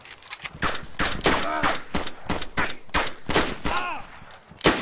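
Gunfire in a shooting video game, a string of sharp reports in quick bursts, loud and close, some shots ringing with a metallic echo.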